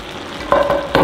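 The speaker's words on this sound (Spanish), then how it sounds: "Bajo la corriente un poquito y la dejo hirviendo ahí unos 3-5 minutitos" Chicken in a vegetable sauce bubbling and simmering in a pan, a close, steady sizzle with two louder surges of bubbling near the end.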